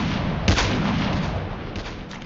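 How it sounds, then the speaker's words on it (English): Gunfire in a military video game fired through a building wall, a booming burst of shots right up close followed by a sustained rumbling roar that slowly fades. "Shooting through the wall."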